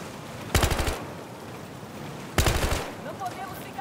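Two rapid bursts of automatic gunfire in Battlefield: Hardline rattle out about two seconds apart, each lasting under half a second, loud against a quiet background.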